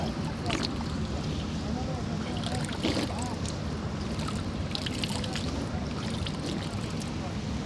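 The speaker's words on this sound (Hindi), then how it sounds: "इस पत्थर के नीचे से पानी निकल रहा है।" Spring water flows out from beneath a stone in a mountain valley, a faint continuous rush and trickle with a few louder splashes at the start.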